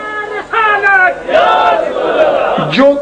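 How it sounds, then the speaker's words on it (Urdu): A crowd at a religious gathering chants slogans in unison, loud and close, in several rising, sustained shouted phrases separated by brief pauses. "جو نعرے تم لگا رہے ہو"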